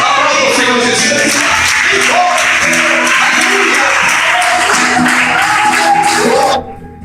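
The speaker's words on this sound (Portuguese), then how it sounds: "Aplauda o Senhor Jesus." Congregation clapping in praise at a church service, a sustained dense wash of applause with voices and music-like tones mixed beneath, ending abruptly near the close.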